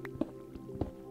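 Water drips in an underground cave in Minecraft, a few soft plinking drops at irregular intervals over a low hum, faint and hollow.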